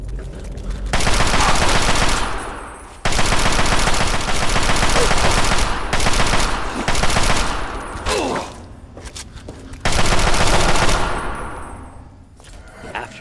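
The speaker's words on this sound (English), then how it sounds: "We open fire into a pool of the undead." Loud, sustained bursts of automatic gunfire in the video game Fallout 3, aimed at ghouls in the Dunwich Building, with long rattling volleys separated by brief pauses.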